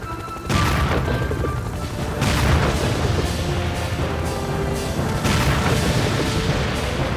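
Repeated heavy booming cannon blasts in the video game Serious Sam 2, several loud impacts over dense rumbling game action with no talking.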